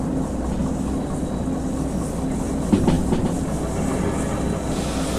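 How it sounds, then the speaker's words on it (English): Train wheels rumble and clack in the Derail Valley railway game, a steady loud rolling roar with a short metallic scrape near the middle. No one speaks. "See, that grinding noise is a scary noise."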